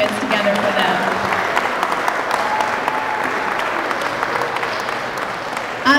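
A crowd at a charity walk kickoff bursts into applause, a dense, sustained patter of clapping that holds steady for several seconds, with a few voices underneath.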